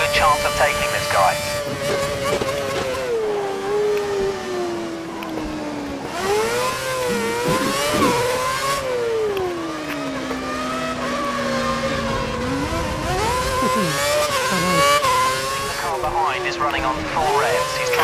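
A Formula 1 race car engine in the F1 2013 video game at the Italian Grand Prix, its loud high-pitched whine rising and falling through repeated gear shifts, with speech over it.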